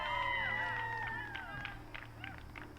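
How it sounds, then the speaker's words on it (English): A crowd cheers at the disc golf Pro World Championships, with a loud burst of whoops and shouts that fades into scattered claps and calls over about three seconds, heard outdoors at a distance. "There's the cheer."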